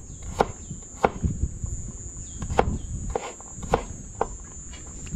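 Garlic being diced with a knife on a wooden board, a series of sharp, irregular chopping knocks close by, with a steady high insect-like whine running underneath.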